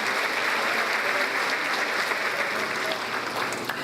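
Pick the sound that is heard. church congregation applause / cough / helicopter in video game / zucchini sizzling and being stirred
church congregation applause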